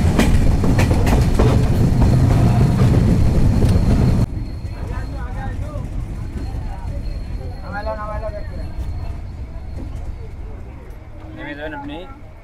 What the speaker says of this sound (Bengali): আন্তনগর নীলসাগর এক্সপ্রেস প্রবেশ করছে সান্তাহার রেলওয়ে জংশন স্টেশনে